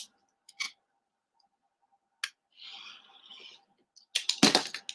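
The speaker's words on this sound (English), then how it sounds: "I still have some white space on there that I will take and trim off with the scissors" Scissors trim the white border from a sublimation-printed iPad case, with sharp isolated snips and clicks and a short papery cutting rasp between them, followed by a louder cluster of handling noise.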